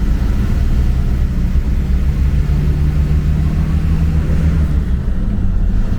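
A front-engine intercity bus on the road between Curitiba and Joinville gives a loud, steady, deep engine drone and rumble heard from inside, holding level with no clear gear-change break and no voices.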